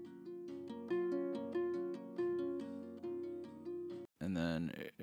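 Harp heard from its direct input signal, a series of clear plucked notes and chords with short decays in a steady rhythm, close and dry, followed by a brief burst of a different sound at the very end.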